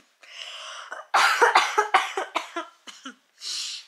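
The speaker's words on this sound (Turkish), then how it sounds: "çok gülünce öksürüzüm geliyor" Repeated coughing from a woman right after a long bout of laughing, a close burst of harsh, uneven coughs followed by a short breathy throat sound, with no speech.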